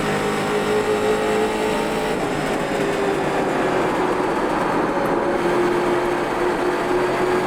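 Street stock race car in iRacing's Richmond Raceway NASCAR race, a steady loud engine drone at near-constant revs with a slight pitch dip midway, heard alone and close.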